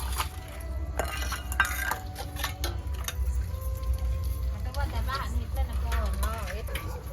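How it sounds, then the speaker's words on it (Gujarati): Metal utensils clink and clatter as they are scrubbed, with steady busy knocks under people talking and a low household background hum. "વાસણ ઘસાયો"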